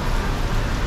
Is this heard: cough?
no